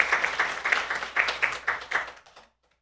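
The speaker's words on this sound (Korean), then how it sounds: "꽃꽂이 하시는 집사님들에게 감사의 박수 한번 좀 보내주세요." Applause of thanks from a church congregation at a Sunday service: a short burst of fairly regular claps that dies away to silence after about two and a half seconds.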